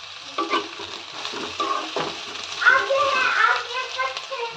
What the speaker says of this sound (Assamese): পিঁয়াজখিনি ভাজি হোৱাত মই দি দিছোঁ গাজৰখিনি আৰু